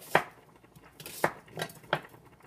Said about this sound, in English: I'm just going to chop the onion in fairly big pieces